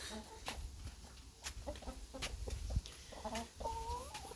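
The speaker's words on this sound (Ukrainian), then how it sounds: "Ось півник" A rooster and hens cluck softly nearby in short, scattered calls over light background noise, with no voices.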